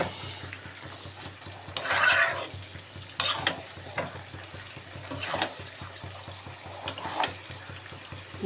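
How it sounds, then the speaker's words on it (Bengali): Chicken skin cooking in a pan of fried spice masala, a soft continuous sizzle with a few louder scraping stirs breaking through at intervals. "মশলা কষানো হয়ে গেছে এবার ছালটা দিয়ে দিয়েছি এর মধ্যে"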